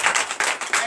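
A church congregation at a Sunday service in Comè, Benin claps loudly in a brief burst of several quick, uneven hand claps, close and full.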